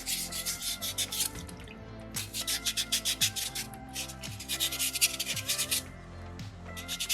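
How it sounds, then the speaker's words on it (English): Sandpaper scrubbed back and forth over a small soapstone fox carving, making rhythmic raspy strokes in bursts separated by short pauses, close and fairly quiet. "work it back and forth just to try and smooth that stone out"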